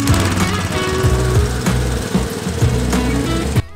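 A reel lawn mower cuts a low perennial ryegrass lawn with a loud, close, steady engine drone and faint repeating clatter throughout, stopping abruptly at the end.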